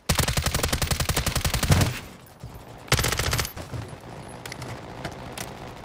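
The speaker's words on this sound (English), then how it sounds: "they got a Gatling gun or something?" A Gatling gun in Call of Duty fires a loud, rapid, evenly spaced stream of shots for about two seconds, then a shorter burst follows after a pause, trailing into distant echoing battle noise.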